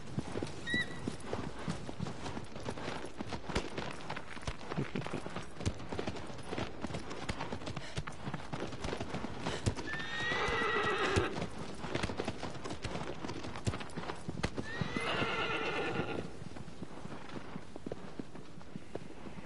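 Horse hooves clopping steadily on the ground in the video game Shadow of the Colossus, a continuous galloping rhythm with two brief neighs or whinnies rising above it midway, moderately close and fairly quiet.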